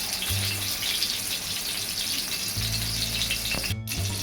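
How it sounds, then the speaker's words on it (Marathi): Stuffed bitter gourds (bharli karli) fry gently in a little oil over a low flame, giving a soft continuous sizzle with a faint low hum underneath. "गॅस स्लो करूनच आपल्याला हे भाजायचे आहे, व्यवस्थित तळायचे थोडा तेलामध्ये."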